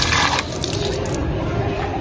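Water gushing under high pressure into a container set out for birds, a loud splashing, rushing fill that runs throughout, with voices nearby.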